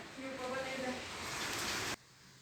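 Heavy rain pours down during a thunderstorm in Ankara, a dense, steady hiss that fills the scene and cuts off sharply near the end; faint voices sit underneath.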